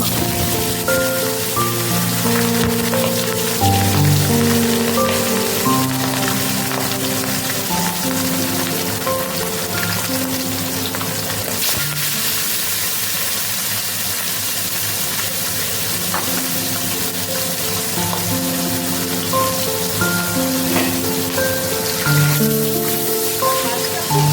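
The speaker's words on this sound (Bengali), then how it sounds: "গ্যাসটা কমিয়ে দিয়ে মাছটা ছেড়ে দিচ্ছি।" Constant dense sizzling and crackling of fish frying in hot oil over a lowered gas flame, steady and loud throughout, with a faint musical tone running in the background.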